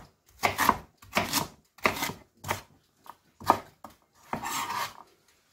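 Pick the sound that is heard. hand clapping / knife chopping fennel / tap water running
knife chopping fennel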